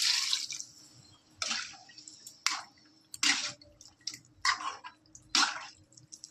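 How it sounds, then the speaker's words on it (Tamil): Water splashing and dripping into a pan of sautéed chicken gravy, with several short pours and splashes in an irregular rhythm over a low steady background hum. "இந்த நேரத்தில் நம்ம கொஞ்சம் தண்ணி சேர்த்துக்கலாம்."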